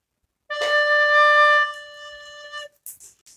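A single sustained D on a soprano recorder, a clear, pure whistle-like tone held for about a second and then fading, close and alone, with faint breathy sounds afterward.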